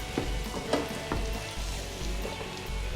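Steady frying sizzle as white wine cooks off in a hot pan, with a few soft clinks and stirring scrapes on top; no talking.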